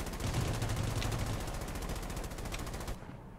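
Rapid, rhythmic automatic gunfire in the Rules of Survival video game, a steady close stream of shots that cuts off abruptly near the end.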